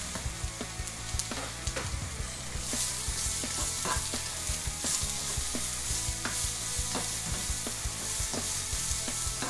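Large mild chili peppers, capsicum peppers and garlic frying in a pan for Thai egg noodles, a steady close sizzle with repeated scraping stirs, growing brighter and hissier partway through.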